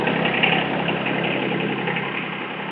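A John Deere 1025R compact tractor engine runs at a steady idle with a constant, even drone, close by and without talk.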